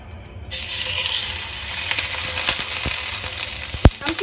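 A fish is laid into hot oil in a home wok and bursts into a loud, steady sizzle that starts abruptly and keeps crackling throughout, with a few clicks and spatters on top and no talk.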